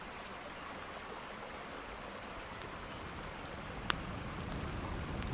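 A river flows far off in a mountain landscape, a faint, steady wash of running water with a few small ticks and drips over it.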